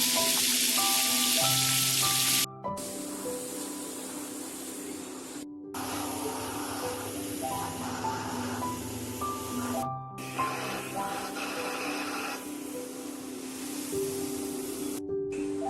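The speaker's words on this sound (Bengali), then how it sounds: "অল্প আগে ভেজে নিতে হবে যাতে মাংসটা সিদ্ধ হয়ে যায়।" Sheek kabab meat frying in medium oil in a pan on an electric stove gives a steady, loud sizzling hiss under background music, with a few brief breaks.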